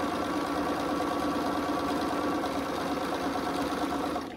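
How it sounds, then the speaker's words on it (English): A sewing machine fitted with a 1/4-inch foot chain-pieces quilt patches for a Friendship Star quilt, its motor humming in a steady, continuous whir that runs unbroken from start to finish. "I'm going to chain piece them, and that just simply means you're just going to keep sewing more pieces together without cutting your thread"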